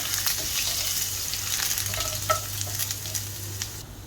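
Ginger and curry leaves frying in hot oil while a Kerala-style prawn molee in coconut milk is prepared: a steady close sizzle with bursts of crackling and stirring scrapes, no voices.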